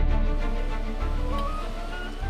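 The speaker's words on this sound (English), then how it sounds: "That is the sound of this actuator starting up," Start-up of an actuator on the FAST radio telescope's giant moving reflector dish: a steady mechanical whirring drone with shifting tonal whines and a rough low rumble, continuous and fairly loud with no voices.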